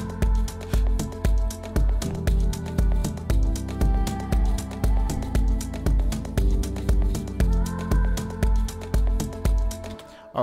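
An electric bass patch from the Nexus synth plugin drives a steady, pulsing afro house bass line with repeating rhythmic notes over a dense, loud groove that continues for the whole stretch.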